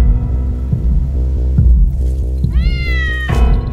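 A cat gives one clear rising meow over a low, rhythmic throbbing and thudding backdrop.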